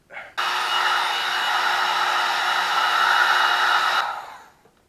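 A heat gun blasts steadily on a moped engine part for about four seconds, a loud, close, continuous hot-air roar that starts abruptly and then fades away.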